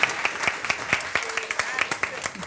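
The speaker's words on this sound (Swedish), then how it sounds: "En applåd till Therese" Audience applause at a Swedish talk on sharing and future waste systems; clearly separated, fairly even claps from a modest crowd repeat steadily throughout with a faint voice underneath.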